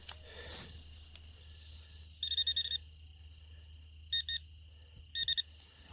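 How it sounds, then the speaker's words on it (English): A Garrett Pro Pointer AT metal detector beeps while searching a shot animal carcass for a bullet: three short bursts of rapid high electronic beeps over a quiet background hum, near and clear. "using a Garrett Pro Pointer AT metal detector to try to find the bullet"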